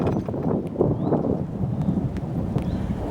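Spring rain patters steadily in April while a distant thunderstorm rumbles low, with gusty wind noise buffeting the microphone throughout.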